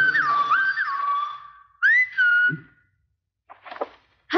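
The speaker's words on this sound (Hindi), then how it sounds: "ये सीटी तुमने मेरे लिए बजाई थी ना?" A person whistles in a Bollywood film scene. The whistling is clear and close, with sliding and wavering notes, a short rising phrase after a pause, and then a few brief chirps.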